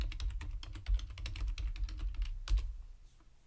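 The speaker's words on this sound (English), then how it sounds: "again we'll type in alien spacecraft" Rapid typing on a computer keyboard, close and clear, a dense patter of key clicks with a couple of heavier strikes, then trailing off near the end.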